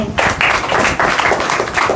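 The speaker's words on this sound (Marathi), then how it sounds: "त्यांचे मी स्वागत करतो पण जोरदार टाळ्या" Loud applause from an audience at a Republic Day ceremony, a dense burst of clapping filling the whole short moment.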